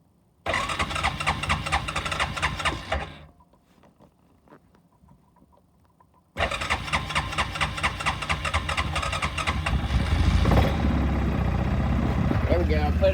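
A 2003 Yamaha Kodiak four-wheeler cold-starts and runs loud and close, cuts out for a few seconds, then restarts and settles into a steady, slightly rising idle.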